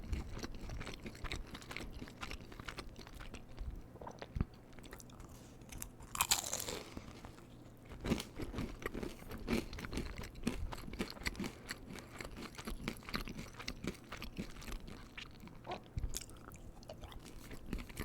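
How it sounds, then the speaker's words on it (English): Taquitos are chewed and crunched close to the microphone in a quiet room, with repeated crisp bites and soft, irregular mouth sounds and no talking. "Let's eat another taquito, shall we?"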